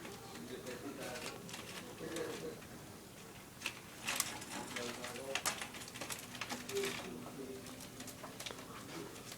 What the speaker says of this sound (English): These are our birds having fun in the cage.